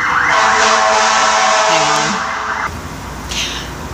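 An emergency vehicle's siren passes outside, a loud cycling wail with engine noise beneath that fades as it moves away.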